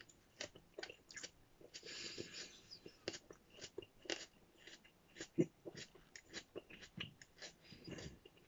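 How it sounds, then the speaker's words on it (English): Fruity, slightly floral food is chewed close up for several seconds, with steady wet squishing bites and occasional soft crunches in an irregular rhythm. "Took a lot of chewing to get on down."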